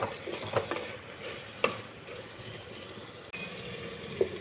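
A chicken cauliflower curry with tomato simmers on low heat, a soft continuous bubbling and hiss with occasional faint knocks and pops, quiet and steady.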